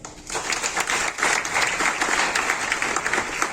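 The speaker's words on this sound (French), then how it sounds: "On peut applaudir pour ça." Audience applause at a literary event, a dense, loud wash of many hands clapping that swells after a brief quiet start and holds steady to the end.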